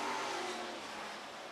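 Super Truck race trucks roar around a track during a heat race, a distant engine drone with a faint falling pitch as one truck passes and fades.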